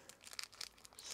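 A sticky silicone gasket peeled away from a plastic bag gives faint, close crinkling and tearing rustles in short bursts, with no voice over it.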